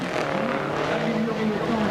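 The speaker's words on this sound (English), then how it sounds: "Leaves and grass and stones, everything fly from behind the back of this powerful rally car." A powerful Peugeot 205 or Lancia Delta rally car races hard over a loose surface of leaves, grass and stones in a 1988 Race of Champions final, engine loud and near with revving tones and sliding tyre noise.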